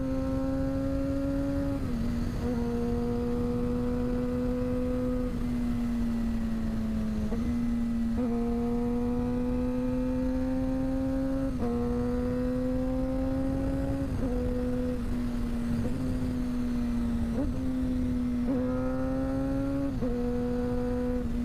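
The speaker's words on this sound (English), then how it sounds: "Just listen to this bike for a second, bro." A Suzuki GSX-R motorcycle engine idles loud and close, then rises in repeated short rev blips that drop back again, steady and alone with no talk.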